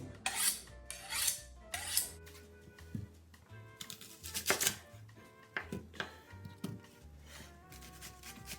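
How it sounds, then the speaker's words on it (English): A kitchen knife being sharpened, a series of close rasping strokes in uneven bursts with short pauses between them and no talking. "This knife is not sharp enough,"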